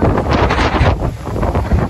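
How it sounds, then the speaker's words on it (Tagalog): Strong wind roars into the microphone on a hilltop climb, a loud, continuous rushing buffet that surges and eases without any other sounds breaking through. "Oh, grabe ang lakas ng hangin."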